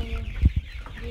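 Improved free-range village chickens give a few short, close clucks, two stronger ones standing out over quiet background.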